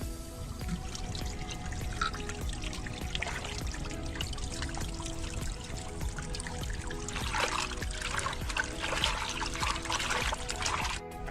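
Water trickles and splashes as coconuts are washed outdoors in the bush in Jamaica, with a continuous pouring and dribbling sound, close by, and occasional handling noises mixed in.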